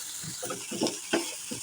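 Leafy greens being stirred with turmeric and salt in a pan, soft rhythmic scrapes and rustles over a low sizzle, close and moderately quiet.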